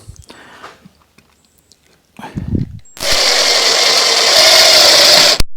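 A power driver sends screws slowly through wooden slats on a Greene and Greene style garden gate, making one loud, continuous whir that starts after a few quiet handling noises and a short spoken remark.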